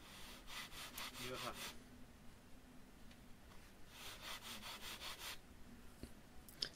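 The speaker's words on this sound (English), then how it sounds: "Angle the sanding block at 45 degrees and just do little at a time." Wood being sanded by hand with sandpaper on a sanding block while building a SLEC Sky 40 model aircraft: two short bursts of brisk back-and-forth rasping strokes, close and fairly quiet, separated by a pause.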